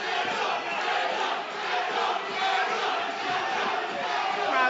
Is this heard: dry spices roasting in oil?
no